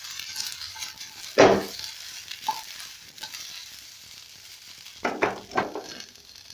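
Sausages and pan-roasted potatoes fry in a pan with a steady low sizzle, broken by a loud scrape or clatter near the start and a few sharper stirring knocks toward the end.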